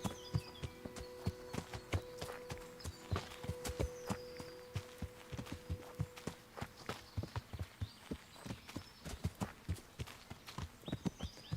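Horse hooves clip-clop in a steady walking rhythm in the video game Kingdom Come: Deliverance, close and even throughout, with faint ambient game sound behind and no talking.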